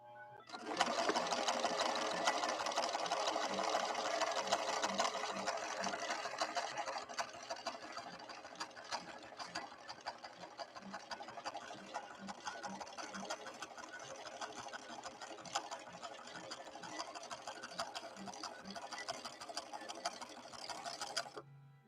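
A ruby red Husqvarna Viking 6460 sewing machine stitches a snaky pattern, its needle chattering steadily and continuously for about twenty seconds, slightly louder at first, then settling into an even run before stopping.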